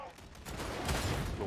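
Gunfire from a sniper in the co-op shooter Warhammer 40,000: Darktide, a dense burst of shots rumbling through the game's busy mix, with a voice talking over it.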